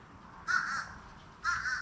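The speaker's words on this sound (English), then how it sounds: "Oh, there's the uh-oh bird. I don't know what kind of bird it is," Outdoors, a bird gives two hoarse, two-note calls like 'uh-oh', each about a third of a second long and spaced about a second apart, fairly clear against a quiet background.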